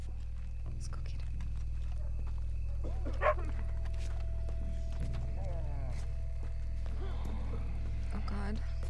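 Dog barking in the Red Dead Redemption 2 video game, a few short barks amid game ambience with horse hooves and a person talking throughout.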